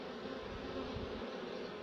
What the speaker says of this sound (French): Il y en a une qui est en train de battre des ailes.